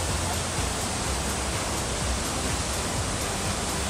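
A strong river current rushes in a loud, unbroken roar of broadband water noise, close by along a hiking trail on Mt Batulao.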